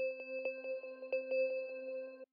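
Bell synth preset in FL Studio playing a short melody of clean, ringing tones with quick plucked attacks, clear and alone for about two seconds.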